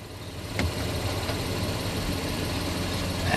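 Steady idle drone of a 2018 Honda Odyssey engine held in gear against the brakes, with a low, even hum and a couple of faint clicks, no talking.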